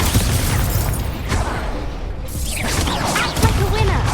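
Fiery blast sounds from Confringo spell attacks in the video game Hogwarts Legacy, arriving as bursts and whooshes within a dense, constant wash of battle noise, with a voice shouting over it.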